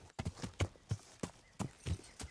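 Horse hooves clip-clop on the ground in Kingdom Come: Deliverance near a river crossing, a close, steady walking rhythm of about a dozen distinct hoof strikes.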